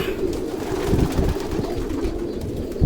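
Pigeons coo in low, repeated, throaty calls as they go back into their loft. The cooing is close and continuous, with a few soft flutters under it.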